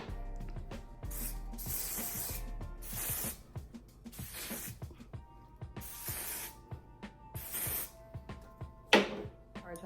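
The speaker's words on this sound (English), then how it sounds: "you can either respray your lace with lace spray, that's what I'm gonna do" Several separate bursts of lace spray hissing onto a wig, each about a second long, with small clicks and rustling between them and a voice talking quietly.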